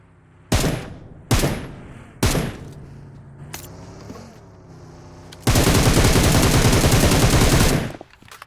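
Gunfire in the mobile battle royale game PUBG Mobile, loud and close: three sharp single shots at intervals, then a long sustained burst of automatic fire lasting over two seconds.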